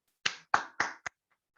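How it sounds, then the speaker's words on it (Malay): A few sharp hand claps, four quick strikes in about a second, as an audience at an afternoon presentation skills session begins to welcome a presenter; close and clear, then near silence. "Jom kita tepuk tangan."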